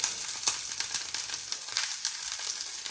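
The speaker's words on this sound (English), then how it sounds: "તો હવે આપણે વેજીટેબલને સ્ટીર ફ્રાય કરી દઈશું." Onion stir-frying in a spoonful of oil for tofu tacos, a steady close sizzle with small crackling pops throughout, no voices.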